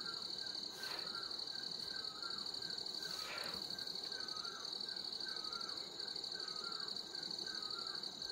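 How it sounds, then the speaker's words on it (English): Crows caw a few times in a village jungle, fairly distant and brief, over a constant high whine of insects and a soft rustling background. "Can hear some sounds, bird sound."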